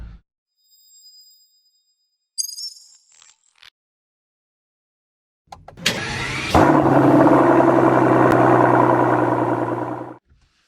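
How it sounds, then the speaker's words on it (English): A Mercedes-Maybach S580 starts up after a few quiet clicks and handling sounds, its engine catching and settling into a smooth, loud idle close by for several seconds before cutting off. "it's now finally time to drive the Mercedes Maybach S580"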